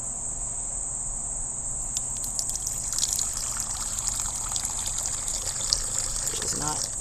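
Distilled water pours into a container for cold-process soap, a soft trickling and gushing that sits under a constant high-pitched insect-like hiss in the room.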